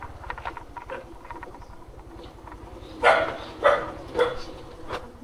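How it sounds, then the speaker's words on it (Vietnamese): A dog gives three or four loud, close barks at a house, spaced about half a second apart, over a steady low motor hum and scattered light pattering. "Chó bà chủ ơi."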